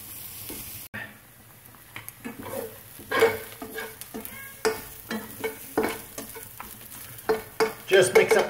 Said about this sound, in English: I'm going to start with the onions.